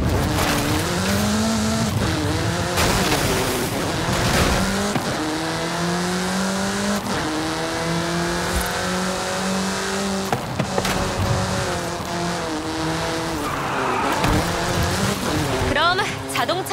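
A car races fast along a country road in Forza Horizon 5, its engine loud and close with rising and falling revs through gear changes and a brief tire squeal, with voices talking over it.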